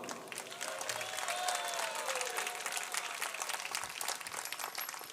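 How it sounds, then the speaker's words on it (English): A festival audience at a temple celebration gives sustained, dense applause. The clapping is steady, distant and fairly faint, with a faint tonal voice or chant drifting through it. "you can clap a little bit louder"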